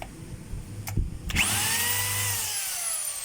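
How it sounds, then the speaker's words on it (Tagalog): A hammer drill tested on steel is tapped briefly, then spins up into a loud, steady high-pitched whine that slowly winds down. "Malakas naman po yung drill."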